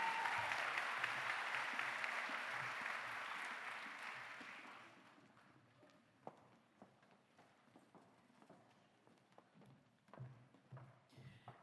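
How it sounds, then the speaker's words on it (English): Audience applause at a school district management team meeting, a broad wash of clapping that fades out after about four seconds, leaving scattered taps, footsteps and faint room noise. "Congratulations, give them another round of applause."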